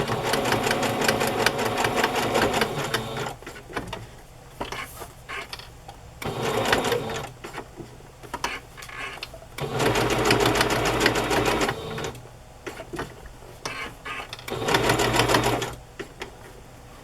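Sewing machine stitching a small cut doily piece onto a paper page, running in repeated bursts of rapid mechanical chatter separated by short pauses, close and fairly loud.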